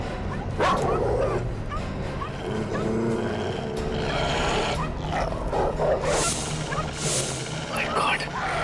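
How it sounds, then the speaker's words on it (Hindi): Several dogs bark and yip in an outdoor scene, a chorus of overlapping barks at mid distance with some whimpering, while people talk over them. "बहुत कुत्ते।"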